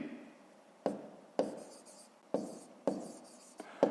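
A pen writes out a math solution on paper in a series of short, sharp strokes and taps, close and fairly quiet.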